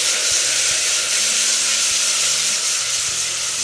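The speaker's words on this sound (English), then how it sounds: "I've melted the butter now, and I'm just going to get the onions in." Onions going into melted butter in a pan for a peppercorn sauce, sizzling with a loud, constant frying hiss and no talking.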